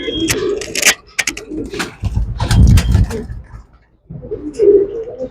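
Pigeons kept for sale cooing nearby in soft, low throaty bursts, with a short gap of near silence, mixed with faint rustles and bumps and a person talking briefly.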